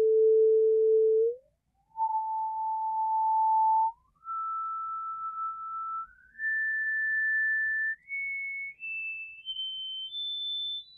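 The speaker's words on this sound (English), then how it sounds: "This is artificially isolating the frequency with software." Software-generated pure tones isolating the harmonics of a hummed note play one after another, each steady tone stepping higher than the last, about eight steps over eleven seconds with brief gaps between some of them.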